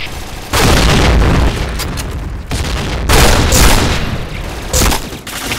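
Grenade explosions in a shooter game boom loudly and repeatedly, heavy bursts coming several times over a few seconds.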